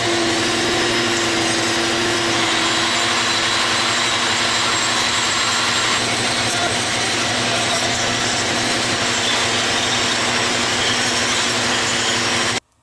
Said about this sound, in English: I'm going to carve these out with a power carver or a rotary tool, Dremel tool